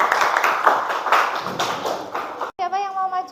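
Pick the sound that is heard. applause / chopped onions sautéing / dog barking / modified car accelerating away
applause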